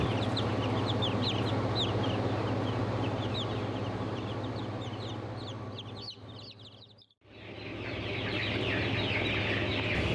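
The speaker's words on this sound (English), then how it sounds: "2 of them are a Dominique Bielefelder cross, and the other 5 are purebred Dominiques" Young Dominique and Dominique-Bielefelder cross chicks cheep and cluck constantly and busily at close range over a steady low hum, briefly dipping to near silence before resuming.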